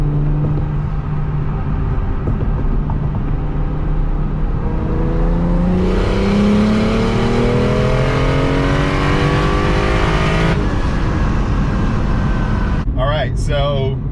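Tuned 750 WHP BMW 135i pulling hard under boost, engine note climbing through the gears in rising harmonic sweeps, loud and close from inside the cabin, with a sharp whistling burst near the end.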